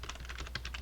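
Rapid keystrokes on a computer keyboard while entering a pip install command on Windows, a quick, even run of about eight light clicks, close and clear with no talking.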